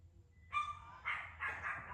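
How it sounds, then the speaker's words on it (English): Small dog giving three quick high yapping barks nearby, short and sharp against a quiet background. "Someone get that dog."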